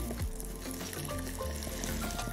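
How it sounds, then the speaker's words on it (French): A slice of very cold foie gras sears in a very hot pan, giving a steady sizzle with crackling pops that runs the whole time at moderate level, with faint tonal kitchen sounds underneath and no voices. "Je vais poêler de chaque côté le foie gras."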